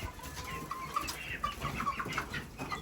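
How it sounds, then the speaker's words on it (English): Bantam rooster crowing from a high perch, a moderately loud call with wavering tones over steady outdoor background noise, no talk. "All the way up top, crowing like a big boy."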